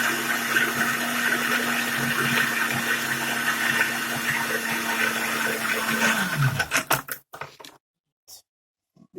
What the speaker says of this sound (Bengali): এবার ব্লেন্ডারে ঢাকনা দিয়ে ব্লেন্ড করলাম।